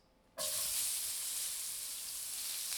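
Onions hit a hot pan while smothered pork chops and gravy are being made, setting off a sudden loud, steady sizzle that starts after a brief quiet moment and holds strong and close.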